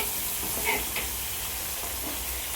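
Curry leaves and spices sizzle in hot oil with a steady, close frying hiss and a few brief crackles, no voices.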